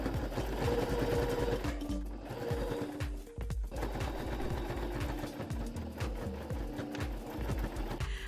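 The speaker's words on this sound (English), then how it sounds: "I sew on the second lining piece of the pocket" A sewing machine runs steadily, sewing the second lining piece of a pocket, its needle mechanism chattering in a fast even rhythm with a couple of brief pauses, close and continuous.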